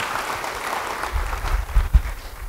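Congregation applause at a church sermon, a dense patter of clapping from a crowd with a few louder claps near the end, moderately loud and without speech.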